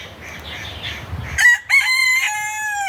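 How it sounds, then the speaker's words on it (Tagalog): A rooster crows loudly and close by, a drawn-out harmonic call, following a few seconds of quieter background sounds. "ang ingay ng manok, ah."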